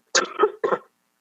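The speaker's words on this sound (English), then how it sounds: "sorry, I should cough again" A few short, dry coughs in quick succession, close by, then silence.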